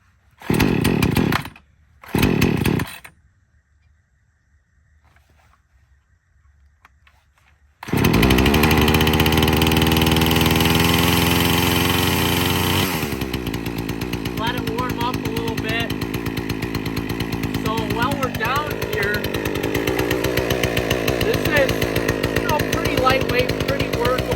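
A Craftsman S205 gas chainsaw starts with a few short pull bursts, then after a pause roars to life at a loud, steady idle-to-high rev close by, its pitch shifting as the throttle changes.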